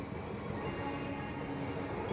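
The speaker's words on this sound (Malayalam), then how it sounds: "ഒരു ട്രെയിൻ ഇങ്ങനെ പാസ് ചെയ്ത് പോകുന്നു" Steady low rumble of a train rolling past, continuous and fairly even throughout, with no voices; a goods train stands nearby.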